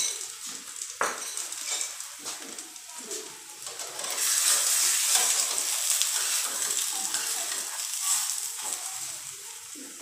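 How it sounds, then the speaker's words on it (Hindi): Aloo paratha fries in oil on a pan with a soft, steady sizzle that swells louder midway. Faint clinks of utensils sound under it and no one speaks. "एक चम्मच ऑयल डालें ताकि ये नीचे जाए, नीचे से ब्राउन हो जाए और साथ ना चिपके"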